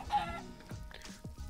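Chickens in the Minecraft video game give a quick series of short clucks, close and fairly faint, in a brief burst.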